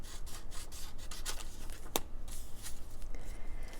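Scissors cut across the top of a paper journal page, giving soft close rasping and rustling strokes with one sharp snip partway through.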